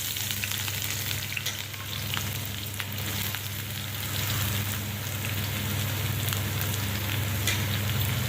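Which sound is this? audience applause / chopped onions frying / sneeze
chopped onions frying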